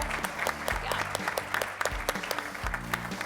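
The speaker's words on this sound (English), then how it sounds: "let's give a round of applause for our panelists here" Audience applause for panelists at an IBM panel session at an NSBE conference, a short burst of steady clapping from a seated crowd.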